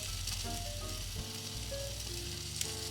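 Takoyaki batter with pieces of octopus cooking in a frying pan, a steady close sizzle that hisses continuously with faint tonal background music and no talking.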